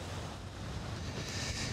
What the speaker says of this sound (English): heavy waves continue to batter the seawall here along Dallas Road